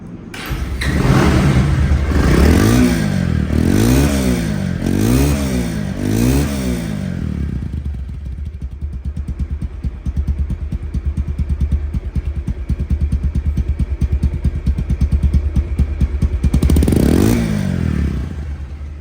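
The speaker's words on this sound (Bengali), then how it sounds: "এখন এই বাইকটি সাউন্ড কোয়ালিটি শোনাব" A Bajaj Pulsar motorcycle engine, a 2025 double-disc ABS model, revs several times in quick rising bursts, settles into a steady rapid idle, then revs once more near the end. Loud and close.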